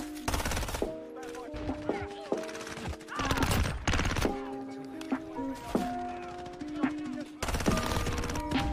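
A blowback-operated SMG in a shooter video game fires rapid bursts in close quarters, each burst a crisp volley of cracks, repeating several times over tonal music.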